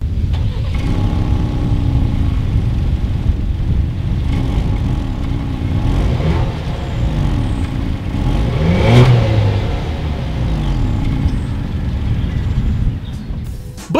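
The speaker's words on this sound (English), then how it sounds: "As always, here is that exhaust clip." A 2020 Ford Explorer's dual exhaust rumbles and revs loudly up close, the deep engine note rising and falling in several throttle blips.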